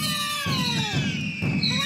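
Fireworks set off in a virtual Japan world, a run of whistling rising and falling tones over repeated crackling bursts, steady and fairly loud without speech.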